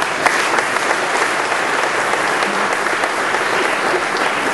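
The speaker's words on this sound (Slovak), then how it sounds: "Poprosím aj o potlesk" Dense, steady applause from a seated audience at an anniversary performance by a folk ensemble, loud and continuous throughout with no individual voices standing out.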